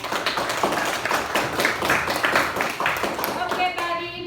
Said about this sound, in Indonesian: Kita berikan tepuk tangan untuk temanmu.